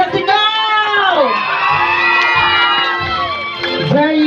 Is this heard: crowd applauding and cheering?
yes